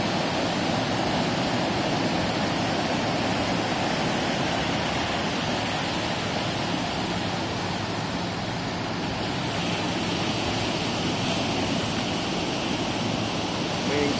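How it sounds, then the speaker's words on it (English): Ocean waves roll ashore at sunset at Nuevo Vallarta, Mexico, making a steady, loud, unbroken wash of surf noise with no voices. "I'm just filming the waves and the sunset in the background"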